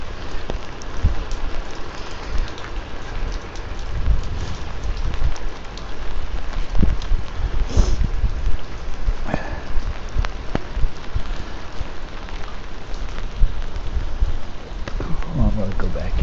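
Steady rain patters on a military-style poncho outdoors, a dense close hiss with scattered sharper drop hits, continuous throughout with a few louder taps near the middle and end.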